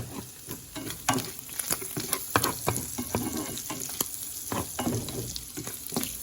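Chicken and shrimp with black pepper sizzle steadily in a pan, a close, crackling fry broken by frequent sharp pops and spatters, with no talking.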